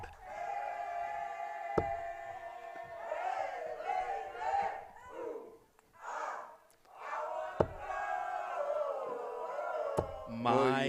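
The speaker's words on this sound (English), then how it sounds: "we're getting a rowdy crowd in here for this one" A rowdy crowd at a live event in Kissimmee, Florida, bursts into shouting, whooping and cheering in rising and falling waves, with a few sharp knocks. Loud voices call out over the din.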